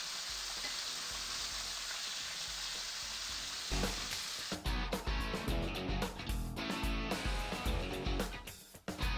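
Chicken fries in a pan with a dense steady sizzle, then the sound turns choppy with clatters and bursts of spitting as the pieces are flipped, close and fairly loud, with no voices.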